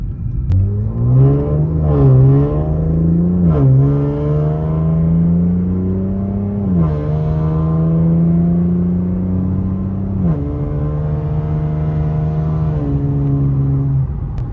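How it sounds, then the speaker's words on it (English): Infiniti Q60 with catted downpipes revving repeatedly, its exhaust rising and falling in several loud, close pulls with a throaty, raspy tone and no talking. "So now I'll be giving you guys a little exhaust clip of the car."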